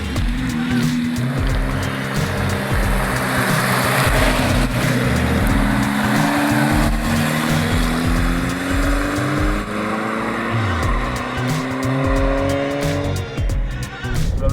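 Peugeot 309 GTI accelerating hard on a test drive, the engine note climbing steadily through the gears with loud, close cabin roar and rising whine, continuous throughout.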